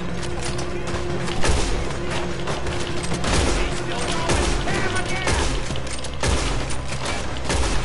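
Gunfire in Red Dead Redemption 2 rattles almost nonstop as a dense, loud barrage of overlapping shots and bursts, with voices mixed into the clamor.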